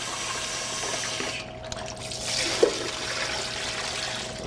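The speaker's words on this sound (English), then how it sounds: "we're just going to let the water fill this up" Tap water runs steadily into a 2-quart measuring container, a continuous close pouring and splashing that holds at even loudness, with no talking.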